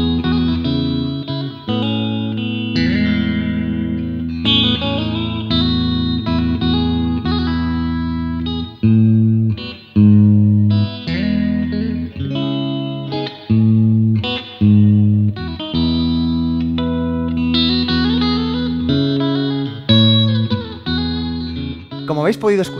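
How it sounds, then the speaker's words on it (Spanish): A Blackstar 10th Anniversary series guitar amplifier plays a continuous run of chords and single notes, with distorted, effect-laden tones and some reverb. The playing is loud and sustained, with short breaks between phrases and no talking over it. "la serie 10 aniversario cuenta con una paleta muy amplia de sonidos"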